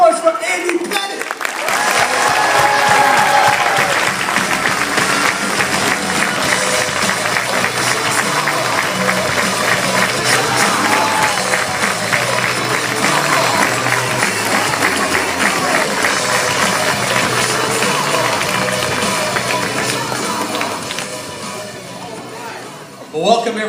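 An audience claps and cheers for New York Yankee Andy Pettitte, loud sustained applause from a large crowd that keeps going for over twenty seconds before tapering off, with voices mixed into the noise.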